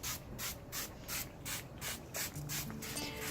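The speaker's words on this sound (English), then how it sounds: "So let's do the spraying part." An aerosol can spray-paints a sunflower wreath outdoors in a series of short, regular hissing bursts, close and steady, with brief pauses between them.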